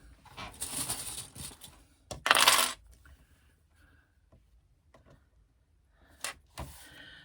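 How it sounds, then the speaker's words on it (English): Sewing clips snapped onto the fabric edge to hold a front slip pocket in place for basting, giving a few quiet, sharp plastic clicks and rustles separated by near-silence. "I'm using some clips just to hold it in place"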